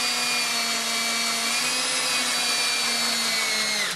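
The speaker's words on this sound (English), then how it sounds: "There again, you want to be very careful you don't drill all the way through this banding." A power drill bevels a hole in stainless steel banding on a boat top, producing a steady, loud, high whine that holds a constant pitch for the whole stretch.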